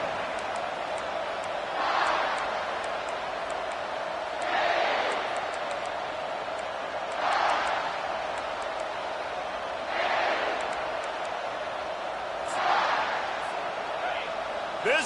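Stadium crowd noise in a Madden NFL football game: a constant distant roar that swells in periodic surges, running under a commentator's voice throughout.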